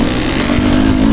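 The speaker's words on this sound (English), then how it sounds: "The engine spools up so much quicker" A Husqvarna TE 300 two-stroke motorcycle engine revving loudly up close, a raspy buzzing roar that holds and climbs slightly over a brief moment.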